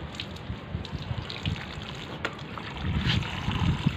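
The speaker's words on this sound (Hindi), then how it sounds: "बेहतर है कि आप शावर यूज़ करें और पौधे को भी धो दें एक दफ़ा" Water spraying from a shower sprayer onto a black grape vine, a steady gushing hiss with no voices.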